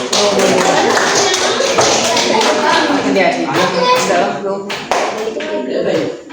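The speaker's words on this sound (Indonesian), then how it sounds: "Berikan aplaus." Students in a classroom applaud after a classmate's anti-corruption reflection. The clapping is loud, dense and sustained, with voices mixed in, then thins slightly toward the end.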